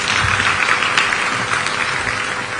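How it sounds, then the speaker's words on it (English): Sustained dense applause from a crowd at a Kenyan African Union campaign event welcoming a government official, loud and even throughout without a break. "A round of applause."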